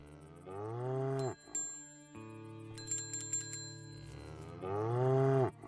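A cow moos repeatedly in the Above Snakes game, two long drawn-out lows at the start and end with a bright bell-like ringing in between, loud and close.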